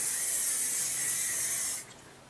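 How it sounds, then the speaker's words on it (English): L'Oreal Elegant Satin extra strong hold hairspray is sprayed over hair set in hot rollers, a steady close hiss lasting nearly two seconds before cutting off. "I'm going to spray a little bit of hairspray all around my hair."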